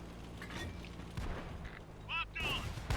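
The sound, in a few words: tank guns firing in a video game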